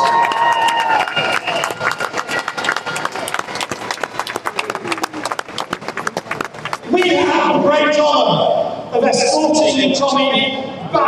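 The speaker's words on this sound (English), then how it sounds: "Give yourself a round of applause." A large crowd at a freedom protest in London claps and cheers loudly in a dense, continuous wash for several seconds, with voices shouting and talking over and after it.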